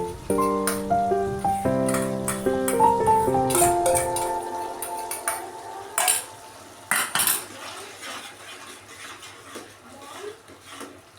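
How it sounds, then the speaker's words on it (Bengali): A utensil clinks and scrapes against a pan while whisked yogurt is stirred into spice masala, with repeated light metallic taps over a brief tonal musical passage early on, then sparser clatters. "এই দইটা এবার আমি মশলার মধ্যে দিয়ে দেব দিয়ে ভালো করে নাড়তে থাকবো যাতে তলায় ধরে না যায়"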